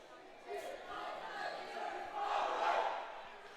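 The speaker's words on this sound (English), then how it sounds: "Both, as you can see, break and huddle with a cheer" Foam dodgeball players at a mixed world championship match break from a huddle with a group cheer, a swelling burst of shouting voices rising to a peak near the end over distant hall ambience.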